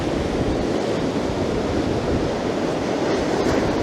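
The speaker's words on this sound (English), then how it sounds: "quite choppy waves, folks, as we come up to look at this end of the pier" Choppy sea waves washing steadily beneath the end of a pier, a dense continuous roar of surf with gusting wind, loud and close, without any voices.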